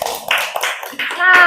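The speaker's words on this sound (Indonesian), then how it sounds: "tepuk tangan untuk kita semua." Hands clap in a few quick, close strikes during a fifth-grade classroom lesson on food chains, with a child and a teacher speaking between and over the claps.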